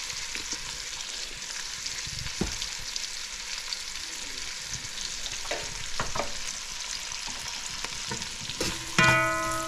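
Eggplant sautéing in a pan, a steady close sizzle with occasional clicks and scrapes of stirring, ending with a short tonal beep.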